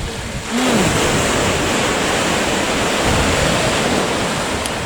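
Sea waves break on the shore at Swanage, Dorset, a steady, loud wash of surf that swells up after the first half-second and then rolls on continuously, with no voices.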